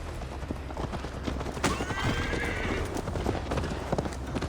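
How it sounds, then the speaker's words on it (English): Horse hooves clip-clopping in the video game Assassin's Creed Valhalla, a steady, close trotting rhythm with a brief whinny, over a faint background wash. "Mount up, Eivor. It's a long ride to Tamworth."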